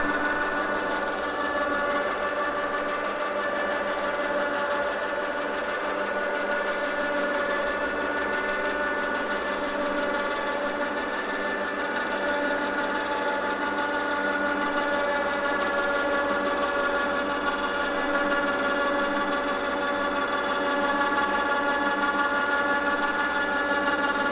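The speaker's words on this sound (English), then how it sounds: "All you need to do is push this button and the winch will do its job." Electric winch raising the rooftop tent on a BunduTrail camping trailer, a steady continuous motor whine with a tonal hum that holds evenly throughout, close and fairly loud with no talking.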